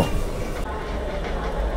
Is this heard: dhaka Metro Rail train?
yes